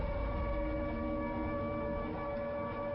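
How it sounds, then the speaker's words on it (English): A steady, droning siren from the Resident Evil: Welcome to Raccoon City film trailer wails continuously with layered sustained tones and a low rumble beneath, holding at an even loudness throughout. "And the siren is so creepy, man."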